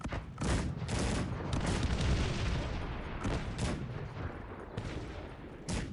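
A dense barrage of booming cannon fire in the video game Cossacks 3 rolls on continuously, heavy overlapping blasts with a few sharper volleys standing out, loud and close.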